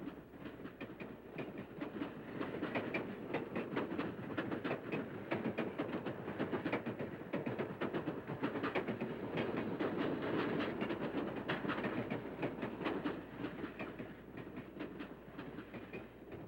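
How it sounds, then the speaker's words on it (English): Two E44 electric locomotives haul an eastbound truck train along a steep-graded passenger line near York, a steady rumble with continuous clickety-clack of wheels over rail joints, heard from a distance and unbroken throughout. "we see two E44s with an eastbound truck train"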